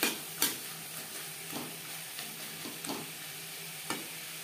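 Carrots, peas and spring onion stir-fry in a pan for chicken chow mein. A low steady sizzle runs underneath, broken by occasional clinks and scrapes of a spatula, fairly quiet and close.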